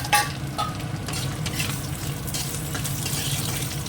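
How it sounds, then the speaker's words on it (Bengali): Cumin seeds and dry red chilies tempering in hot oil in a pan, a continuous close sizzle with light spattering and occasional soft utensil touches, no voices. "এবার এর মধ্যে ফোড়ন দিয়ে দেবো একটু জিরে দিয়ে শুকনো লঙ্কা দিয়ে দেবো"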